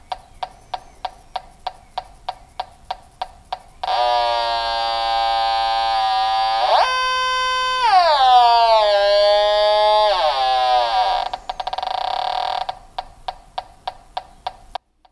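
A gas leak detector turned up to higher sensitivity gives fast, even ticking, then a loud continuous buzzing tone that bends up and down in pitch before the quick ticking returns. It is close and clear, with no talking over it.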